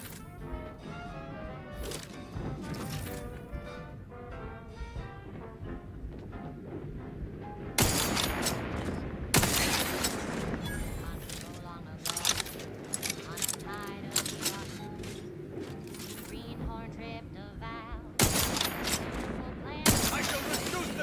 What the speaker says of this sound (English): God, you gotta love sniper rifles.